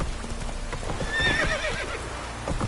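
A horse in The Witcher 3 video game gallops with quick rhythmic hoofbeats and lets out a clear, close neigh partway through, with no talk over it.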